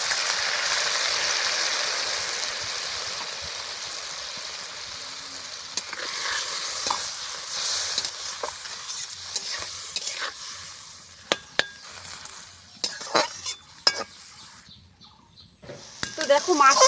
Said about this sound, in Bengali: হলুদ দিয়ে একটু জল দিয়ে একটু সিদ্ধ করে নেব দেখো মাছটা